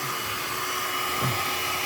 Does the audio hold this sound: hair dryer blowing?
yes